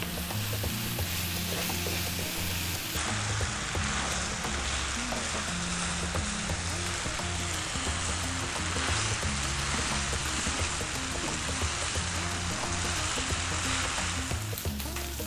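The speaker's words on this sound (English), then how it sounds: "That is your rice frying." Steady, dense sizzling and crackling of green vegetable rice frying in a hot pan, continuous and close, with faint stirring scrapes and no voices.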